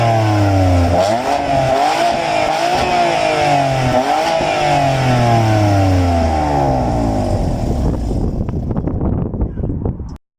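BMW M4 F82 coupe with manual gearbox, its engine revving loudly with repeated rising and falling pitch sweeps through gear changes, close and continuous, easing off into rough idle near the end.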